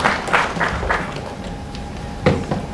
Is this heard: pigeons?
no